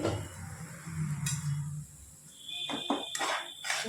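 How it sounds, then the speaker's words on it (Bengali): A lid comes off a cooking pan while a tangra fish curry simmers with tomatoes and spices: a low bubbling sizzle, then a few sharp metallic clinks and rings as the lid is lifted. "দেখুন, ঢাকনাটা আমি খুলে নিচ্ছি"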